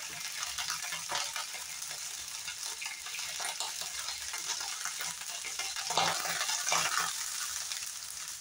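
Ghee sizzles softly in a hot pan while making kalakand, a quiet crackling hiss with occasional louder spurts and utensil clinks near the end.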